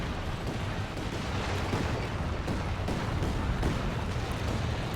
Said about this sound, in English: Yeah, it's always a long barrage with a land mattress.